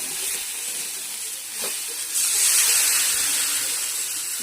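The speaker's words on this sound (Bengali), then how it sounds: "জল ঢেলে দেব" Water poured into a hot pan of fish curry with eggplant and potato hisses and sizzles steadily, swelling louder partway through, close up with no talk.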